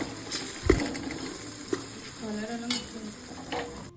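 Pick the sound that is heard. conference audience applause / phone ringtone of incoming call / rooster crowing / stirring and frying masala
stirring and frying masala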